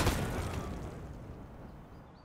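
An explosion in the shooter game Escape from Tarkov leaves a broad, rumbling roar that starts at its peak and slowly dies away over a couple of seconds, somewhat muffled and distant.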